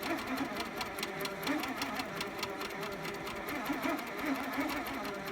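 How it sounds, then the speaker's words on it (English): A long arm sewing machine free-motion quilting a repeated figure-nine pattern runs steadily, its rapid needle clatter continuous and fairly close throughout. "Just like the other machine, the stand-up long arm, I'm quilting the number 9 over and over."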